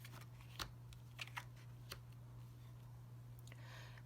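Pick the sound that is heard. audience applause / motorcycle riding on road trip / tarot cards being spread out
tarot cards being spread out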